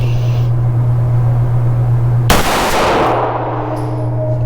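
A single loud, close shot from an old Browning Hi Power 9mm pistol cracks sharply and rings off, set against a steady low hum.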